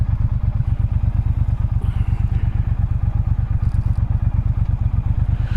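A 2020 Triumph Speedmaster motorcycle idles close by at low speed while pulling in to park, its steady low thumping engine pulse running evenly throughout with faint clatter.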